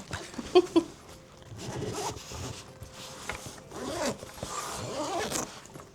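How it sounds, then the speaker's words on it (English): Zippers being pulled open on a carry-on travel backpack, several close, quiet rasping strokes of varying length with faint handling noise. "Wow, the zippers are so hidden."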